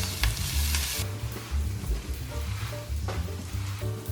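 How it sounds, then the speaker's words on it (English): Ingredients for a spicy coconut beef stew sautéing in oil in a pan, a steady close sizzle with scraping stirs and light clatter throughout, no talking. "You're gonna wanna saute all this for about 3-4 minutes."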